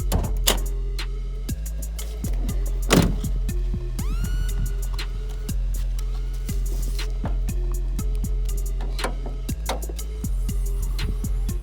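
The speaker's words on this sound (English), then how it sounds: "Then pop the hood" A car's hood is popped open during a brake booster repair on a car being readied for resale: one sharp, close latch thunk, then brief squeaky creaks, over a steady low hum.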